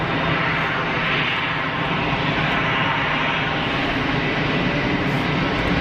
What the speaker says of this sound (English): I would say it's still a Bombardier